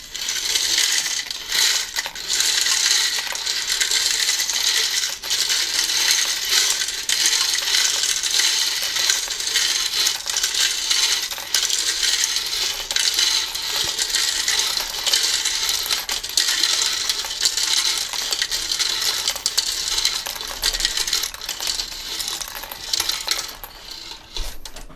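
Loose plastic pieces tumble inside the rotating drum of a LEGO Technic 42112 concrete mixer truck, a dense, continuous rattling clatter that stays loud and steady throughout, without speech.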